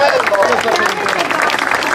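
A crowd at a slalom car race in Cellara applauds Gianfranco Covello, dense steady clapping mixed with crowd babble, loud and close, continuous throughout.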